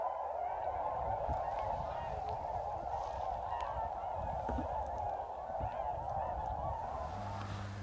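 A dense chorus of geese honks nonstop in the distance, many birds calling at once in a steady wash of noise, with ducks and swans around in Montana.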